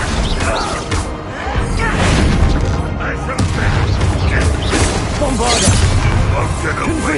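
Bombarda blast spells boom in Hogwarts Legacy combat, heavy explosive thuds and crashes among clattering effects, loud and close, with voices calling out over the action.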